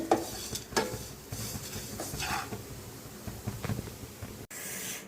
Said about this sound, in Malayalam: ഇനി നമ്മൾ കൈവിടാതെ അല്ലെങ്കിൽ കൈവിടാതെ തന്നെ എന്നാലും ഒന്ന് കൈവിടാതെ തന്നെ ഇളക്കി കൊടുക്കണം